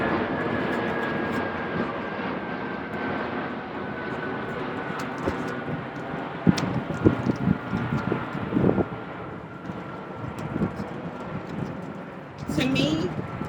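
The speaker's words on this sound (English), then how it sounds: "And there goes our airplane." An airplane drones overhead above a farm field where corn has been planted, a steady distant engine hum running through the stretch while a person talks and handles things nearby.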